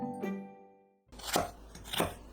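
A knife chops onion into small pieces on a board, with two or three distinct, close thuds following a fading chime-like tone, fairly quiet with no talking.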